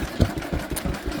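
A vintage Lister H type oil engine runs for a moment, a close, loud, low-pitched, rhythmic chugging with regular firing pulses.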